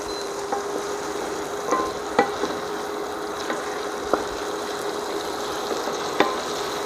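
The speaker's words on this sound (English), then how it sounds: "First start with the onions. It's very hot because it's hot oil. Fry it." Onions frying in hot oil in a pan for a vegetarian nasi lemak, with a steady close sizzle and occasional sharp clicks of a utensil stirring against the pan.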